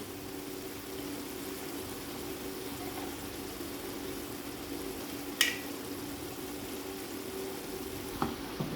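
Potato bhujia with green chilli and coriander frying in a pan, giving a steady low sizzle throughout, with a sharp clink near the middle and another light knock near the end.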